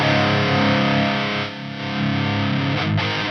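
Heavily distorted electric guitar through a 1986 Marshall JCM800 2210 tube amp, a thick sustained crunchy chord that dips briefly and then swells back, loud and saturated.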